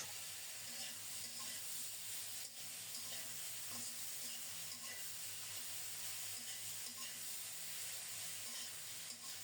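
Ground green chili paste frying in a pan with tomato and turmeric, a steady moderate sizzle with hissing steam and occasional scrapes of stirring, no talking.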